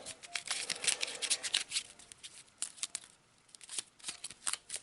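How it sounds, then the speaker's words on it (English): Cards from an Arkham Horror: The Shadow Over Innsmouth board game deck are riffled and shuffled by hand on a tabletop, with a series of quick crisp flutters and pauses, close and fairly quiet, with no talking. "just shuffle them back in"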